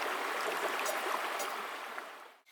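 Steady rushing water of a mountain river flows continuously and fairly close, a broad even wash with small splashy details, fading briefly near the end; no voices.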